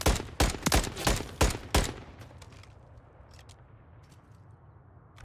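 Rapid bursts of gunfire in a Search and Destroy match on the Terminal map, about six sharp, loud shots in quick succession, then fading into quieter game ambience with a few faint distant pops.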